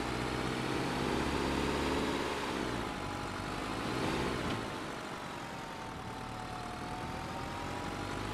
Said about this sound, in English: This tractor's really loud.